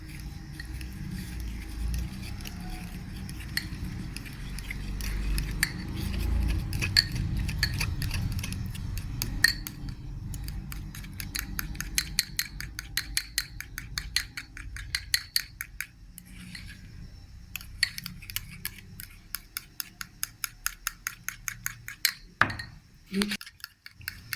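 Milk powder being stirred into milk in a bowl for a shahi cake, rapid rhythmic clinks of a spoon against the dish that speed up in the second half, close and fairly crisp, with no talk over them.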